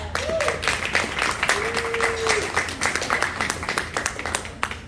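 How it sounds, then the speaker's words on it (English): Audience applause at a community mural dedication, a moderate crowd clapping steadily in a reverberant space, with scattered cheers and a voice rising briefly through it. "let's give Broward College a round of applause"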